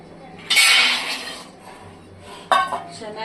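Peanuts being dry-roasted in a pan on the stove: a bright rattling clatter as the nuts hit the metal, fading over a second, then a second sharper burst of rattling, close by against a quiet background.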